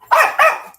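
A puppy gives two quick, loud, close barks in succession, the second slightly shorter, with no one talking.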